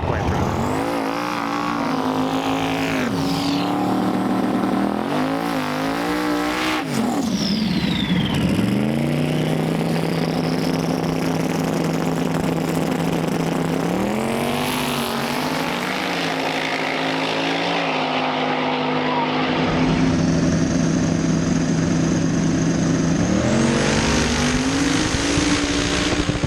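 Twin-turbo Chevrolet Malibu drag race cars at a drag strip launch loud and rev hard, with rising engine whine and turbo scream. Repeated gear-change sweeps fade as the cars run down the track.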